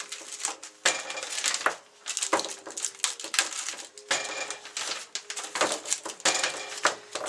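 Homemade meatballs on wax paper are set one after another into a sealed container in a home kitchen, giving a run of close, irregular plastic clacks, taps and paper rustles without speech.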